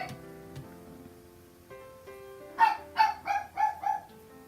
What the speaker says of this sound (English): She's just going to bark for like the next half an hour.